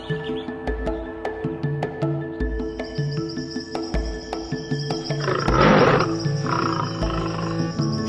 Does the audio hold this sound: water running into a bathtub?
no